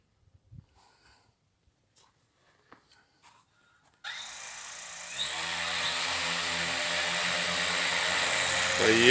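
An electric snowmobile sets off in a cramped spot. A few faint clicks and knocks come first, then a loud broadband rush and whine swells up abruptly and holds steady.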